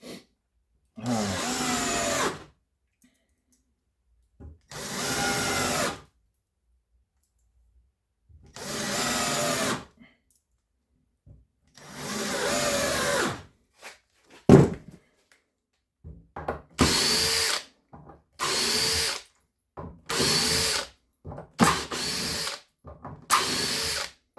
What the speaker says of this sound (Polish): Jak tu 9-letnia wkrętarka szczotkowa działa